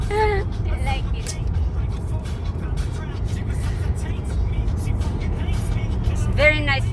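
A green Ferrari overtakes on a European highway, its engine and tyre noise rising and falling against steady road rumble from inside a moving car, with people talking excitedly over it.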